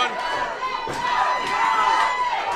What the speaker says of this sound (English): Kerry Morton's getting the audience behind him, cheering him on.